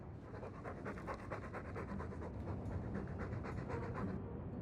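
A dog in the video game Dragon Age 2 pants close and loud, with quick, steady breaths that keep a fast rhythm throughout and then stop abruptly.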